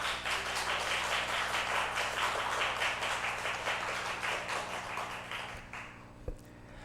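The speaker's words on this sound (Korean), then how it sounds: "우리 교수님 나오실 때 우리 큰 박수로 맞이하도록 하겠습니다" Audience applause in a church Sunday afternoon service welcomes a university special education professor to speak; dense, steady clapping fills the hall, then thins out and fades near the end.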